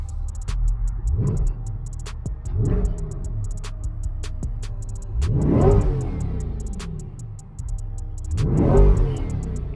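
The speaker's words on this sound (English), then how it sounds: "Give it a rev real quick." A Corvette C8 Stingray sports car engine revs sharply several times, each burst rising and falling, with steady idling between revs and no talking.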